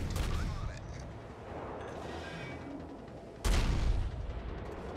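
Warship guns fire in the video game World of Warships, with one sharp, heavy boom near the end. Before it comes a rumbling battle backdrop, and someone talks over the opening.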